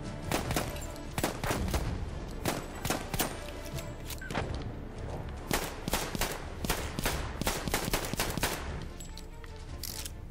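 Battlefield 1 gunfire crackles almost nonstop, with sharp rifle and machine-gun bursts layered over a steady din of battle noise, loud and close with occasional heavier thumps.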